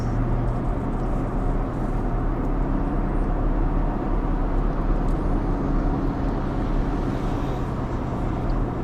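Steady broadband road and wind roar inside a 2019 Infiniti QX80 cruising at about 55 mph, a continuous low rumble with no voices, the cabin otherwise quiet.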